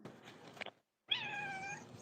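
Cat meowing indoors, a short muffled sound then a long, clear drawn-out meow, close and moderately loud.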